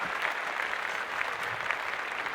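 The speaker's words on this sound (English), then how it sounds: "Round of applause." Brief applause from a small group, steady close clapping lasting a couple of seconds.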